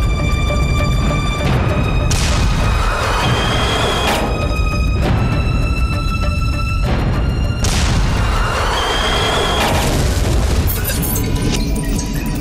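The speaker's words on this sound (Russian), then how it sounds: "Он выстрелил, и снаряд отскочил от брони советского танка." A tank cannon fires and its shell ricochets off the sloped armor of a Soviet T-34 during battle, heard as repeated heavy booms and crashing impacts over continuous loud rumbling and noise.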